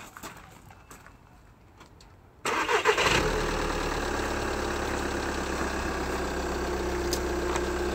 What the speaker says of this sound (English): And then I'm going to turn on the car.